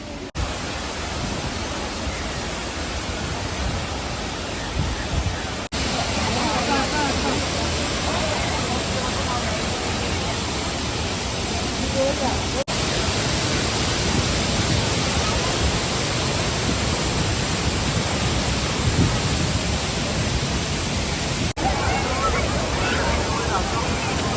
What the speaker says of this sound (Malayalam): നമ്മൾ വാട്ടർഫാൾ എത്തിയിരിക്കുകയാണ്